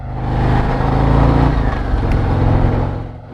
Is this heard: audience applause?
no